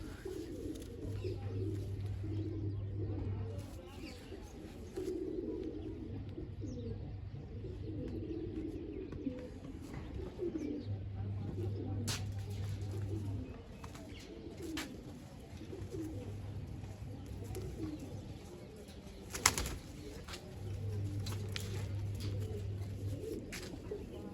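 Pigeons in a loft coo in low, repeated phrases at a steady rhythm, with soft bird chatter and occasional rustling throughout; no distinct wing flapping stands out.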